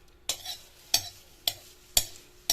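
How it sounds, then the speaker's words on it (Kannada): Spices being dry-roasted in a pan for rasam powder, stirred with a spoon in five regular scraping strokes about half a second apart over a faint sizzle, close and fairly quiet. "ಈಗ ರೋಸ್ಟ್ ಆಗ್ತಾ ಇದೆ ಸ್ವಲ್ಪನೇ"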